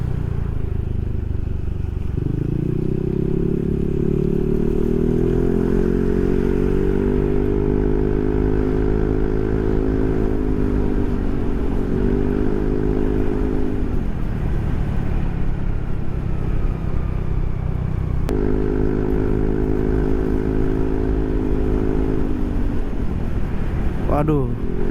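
A Yamaha NMAX scooter fitted with a Proliner SR Neo silent exhaust runs close by with a deep, smooth droning rumble that rises and settles as the throttle is opened several times.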